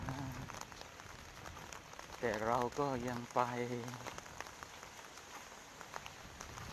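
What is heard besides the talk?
rain falling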